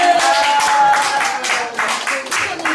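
A church congregation claps together during a revival service, producing loud, rhythmic bursts that continue steadily throughout. A held vocal tone carries faintly beneath the clapping.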